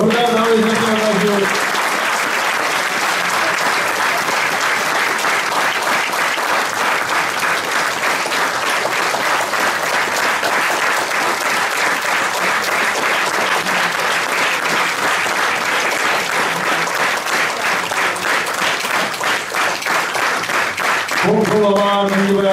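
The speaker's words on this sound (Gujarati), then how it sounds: "જોરદાર તાળી આપજો." An audience at a Bhagvat gathering applauds loudly and continuously for about twenty seconds, a dense, even wash of clapping with voices briefly audible at the very start and end.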